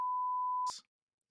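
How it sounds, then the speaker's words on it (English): A single steady censor beep, a pure tone lasting under a second that cuts off abruptly into a short burst of noise, then silence. "The first beep of the episode, right at the end."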